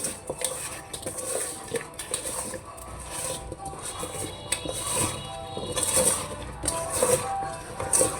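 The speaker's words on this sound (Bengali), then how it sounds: "এখানে আমি হালকা করে মরিচের গুঁড়া দিয়ে দিলাম। এখন এটা মিক্সড করে নিব।" A utensil scrapes and clinks steadily against a metal pan as chili powder is stirred into food, a close, continuous rhythm of stirring with no talking.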